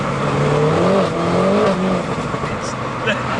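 A tuned 288 bhp R56 Mini Cooper S engine revs hard after a downshift into second, a loud rising then falling drone close by, with someone talking over it.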